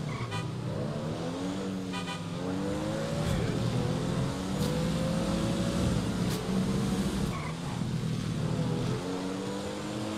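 A car driving in GTA 5 gives a steady engine drone whose pitch climbs and shifts with gear changes. Faint background sounds run beneath it, and the engine stays continuous and fairly quiet throughout.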